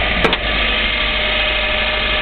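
A Mitsubishi Pajero Mini engine runs steadily at close range, a continuous broadband hum with a brief sharper transient near the start, being revved up.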